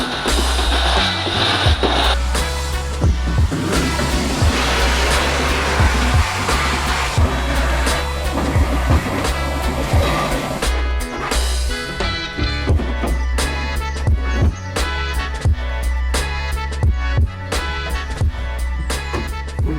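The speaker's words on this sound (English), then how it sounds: "The next job is now cleaning it all out, giving it a hoover, giving it a good wipe." A vacuum cleaner runs continuously and loud inside a VW Caddy Maxi van being cleaned out after sound deadening work, its steady drone interrupted by bumps and clatters as the nozzle moves around the cargo area.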